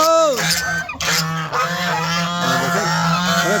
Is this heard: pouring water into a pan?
no